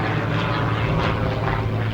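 Aerobatic plane powered by an 8.75 litre, 327 horsepower Lycoming engine turning a foam, carbon fibre and titanium propeller, a steady loud engine drone with a propeller buzz throughout, no voices.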